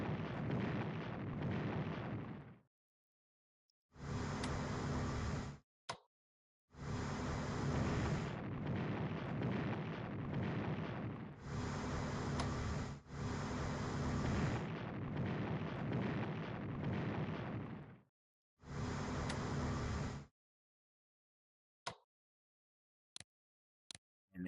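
Battleship bombardment in the StarCraft video game, heard as long, heavy rumbling blasts in several separate bursts of booming explosions, loud and dense, followed by a few short sharp pops near the end.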